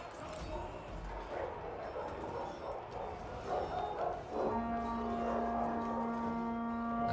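War dogs bark and yip in a Total War: Arena battle as Boudica's Seconded Strays Tier IV war dogs, mixed into dense, steady combat noise, with a sustained tone entering in the second half.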